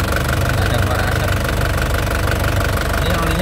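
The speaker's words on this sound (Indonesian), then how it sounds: "Itulah kalau suara Panther renyah seperti ini ya" An Isuzu Panther engine idles up close, a steady, crisp rattling chug that holds evenly without revving.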